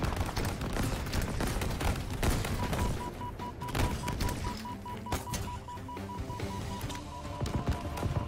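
Weapon fire from the Halo Infinite campaign on Legendary difficulty, in a busy battle on the road, with dense bursts of shots and explosions layered over a constant in-game ambience and a steady electronic tone.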